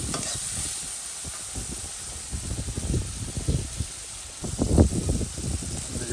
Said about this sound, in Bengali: দেখুন তেল দিয়ে পেঁয়াজ রসুন সব কিন্তু এই যে একদম তেলে আবার ভাজা ভাজা করে নেওয়া হবে।